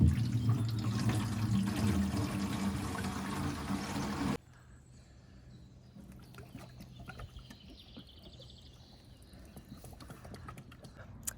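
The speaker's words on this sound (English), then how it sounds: "Oh, the water fountain is so cool." Water pours steadily from a fountain at a spring, making a close, broad rushing sound for about four seconds before it cuts off to quieter outdoor surroundings with scattered light knocks.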